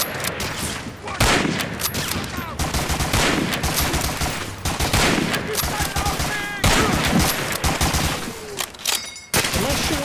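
Rapid, sustained gunfire from Medal of Honor: Spearhead, aimed at barbed wire on the Operation Overlord battlefield, with dense overlapping bursts and sharp shots crackling loudly and almost without pause.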